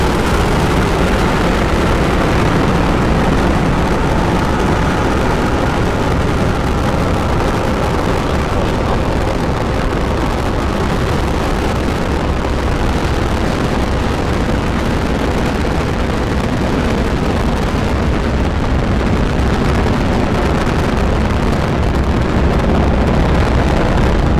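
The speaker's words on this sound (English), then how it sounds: "Ignition, liftoff. Vehicle is pitching downrange." A SpaceX Falcon 9 rocket ignites and lifts off carrying a communications satellite, heard as a continuous loud, broadband roar that rumbles and crackles without a break throughout.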